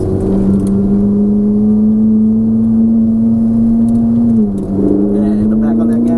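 A Ferrari 458 Italia engine pulls steadily on a driving-experience course in Orlando, a loud close interior drone holding a constant pitch that dips briefly and then climbs again as the throttle reopens.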